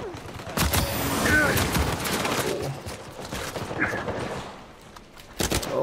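Rapid gunfire crackles in an Uncharted 4 multiplayer firefight, close sharp shots in bursts with a heavy volley near the start and more reports toward the end, while players talk over the shooting.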